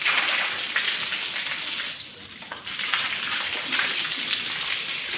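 Water sprayed or sluiced across the floor of a cattle shed during washing, a steady loud gushing and splashing that runs throughout with only a brief dip in force.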